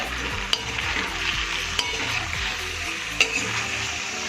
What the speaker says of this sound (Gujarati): હળદર એડ કરીશું. આને આપણે ફ્રાય થવા દઈશું.